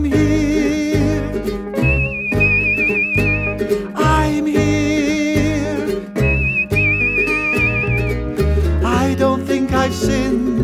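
A high, wavering whistle rises twice above a full band accompaniment with singing, imitating a bird's call in short warbling phrases.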